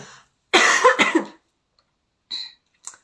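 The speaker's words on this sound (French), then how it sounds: "je peux tousser tout ce que je veux" A hoarse woman coughs at home: a harsh, rough double cough up close, then two short, raspy throat-clearing coughs after a pause of quiet.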